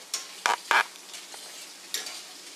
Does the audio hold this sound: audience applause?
no